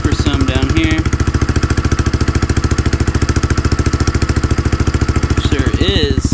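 A 2021 Honda CRF110 dirt bike with a Yoshimura exhaust idles close up, its single-cylinder engine pulsing in a steady rapid thump throughout, with someone talking briefly over it at the start and end.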